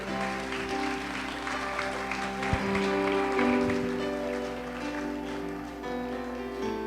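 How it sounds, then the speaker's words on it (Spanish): A church congregation applauds with spirit, a continuous patter of clapping over sustained musical tones from instruments, with no talk. "Vamos a aplaudir con ánimo."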